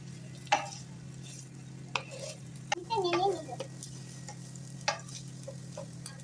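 Tengra fish curry with onion stirred in a pan with a spatula, a few sharp scrapes and clinks spread out over a quiet background hum, close but faint.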